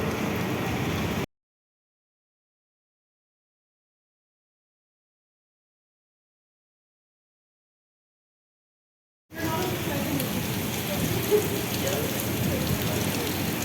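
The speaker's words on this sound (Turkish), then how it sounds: "Şöyle bir yağmur başladı." Rain beginning to fall outdoors near an airport building, a steady hiss of drops on surfaces, moderately close, broken by a long stretch of total silence in the middle before the patter returns.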